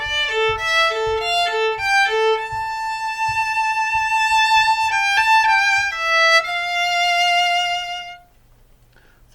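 Solo violin plays a slow teaching run-through of a phrase, a string of clear slurred notes rising and settling into a long held tone that fades out, alone and near.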